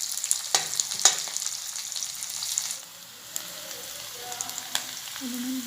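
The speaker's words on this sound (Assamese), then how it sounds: "পিঁয়াজখিনি অলপমান ভাজি ল'ব লাগে যাতে এই বস্তুটো অলপমান ছফ্ট হয়।" Onions and green chilli fry in a pan for a cauliflower dish, a soft, close sizzle with a few sharp stirring clinks early on, quieting to a low crackle.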